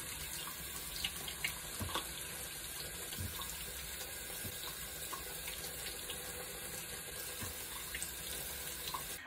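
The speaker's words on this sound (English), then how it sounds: "We're going to wash my face now." Tap water runs steadily from a faucet into a sink while a face is washed after a creamy pumpkin cleanser, a soft continuous splashing hiss with small splatters, no talking.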